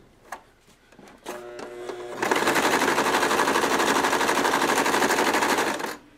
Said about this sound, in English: I'm just going to sew here on the side seam and the shoulder